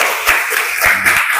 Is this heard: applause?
yes